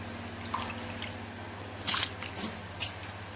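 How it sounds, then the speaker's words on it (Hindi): Rice is poured into a pot of boiling water, giving a few soft wet drips and squishy splashes over a low steady hum. "देखिए, हमने सारे चावल ऐड कर दिए हैं"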